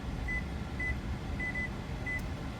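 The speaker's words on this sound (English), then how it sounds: "we're going to set a timer for 5 minutes" Short electronic kitchen timer beeps while onions cook in bacon grease for potato soup: four or five brief high tones spaced roughly half a second apart over a steady, loud sizzling background.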